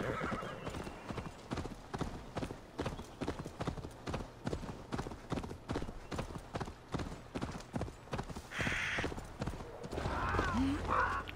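A horse's hooves clip-clop in a steady rhythm in Assassin's Creed Valhalla, close and clear, followed by a loud neigh near the end.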